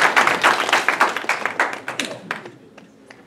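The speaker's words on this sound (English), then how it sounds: "let's give a round of applause to Martin to talk about business plan writing" Audience applause at an Xtecher Chunhui Cup business event: a dense burst of clapping that thins over a few seconds into scattered individual claps and fades.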